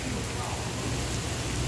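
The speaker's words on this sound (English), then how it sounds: "And it's pouring rain." Pouring rain outside a casino hisses as a steady, faint, even wash of noise throughout.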